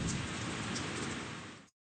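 Steady rain falling, a soft, even hiss of drops that holds constant and then cuts off abruptly.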